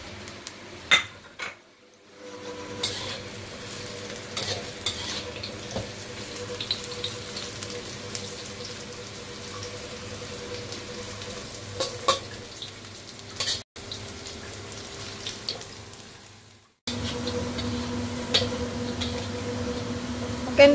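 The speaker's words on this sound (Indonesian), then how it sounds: "pertama aku panasin minyak dan aku goreng dulu ini tempenya ya." Tempeh frying in hot oil in a home kitchen, a steady broadband sizzle running throughout with brief breaks and a few faint clinks of utensils against the pan.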